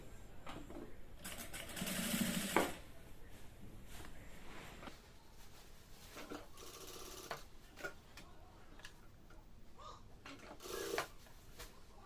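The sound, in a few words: sewing machine stitching salwar fabric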